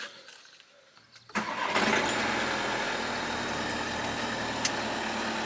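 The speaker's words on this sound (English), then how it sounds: "if we start her up, foot on the brake" A VW California van's engine cranks briefly after a quiet pause, then catches and settles into a steady, close idle that runs to the end, with no talk.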